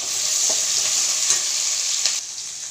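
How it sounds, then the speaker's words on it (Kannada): Cinnamon and cloves fry in hot oil for sambar, a close, steady hissing sizzle with a few soft stirring scrapes through it. "ಸ್ವಲ್ಪ ಚಕ್ಕೆ ಲವಂಗ ಹಾಕಿ ಚೆನ್ನಾಗಿ ಫ್ರೈ ಮಾಡ್ತೀವಿ"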